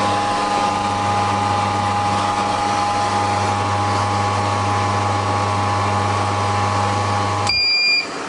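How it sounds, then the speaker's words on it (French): An Angel juice extractor motor running down after juicing, a steady loud mechanical hum with constant tones, ending abruptly with a short high beep near the end, no talk. "on entend le moteur qui refroidit"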